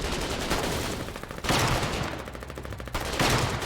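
Machine gun fire rattles in long, rapid bursts during frontline fighting in the war game Foxhole, loud and dense with short breaks between volleys.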